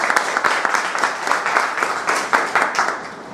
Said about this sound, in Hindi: तो एक बार जोरदार तालियां आपके अपने लिए।